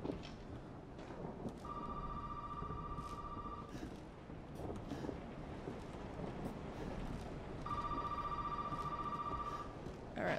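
Telephone in the horror game Resident Evil 7 rings in two long electronic bursts, each about two seconds, over a dark, noisy ambient game soundscape with no talking.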